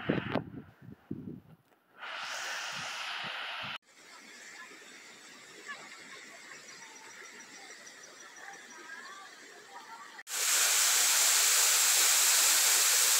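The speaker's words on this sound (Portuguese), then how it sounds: "E a cachoeira maravilhosa que está aqui em nossa frente já." A waterfall on a trail at Serrinha da Prata gives a broad rushing hiss that cuts in and out between sections, loudest and fullest at the end, with faint voices and a little laughter in the quieter parts.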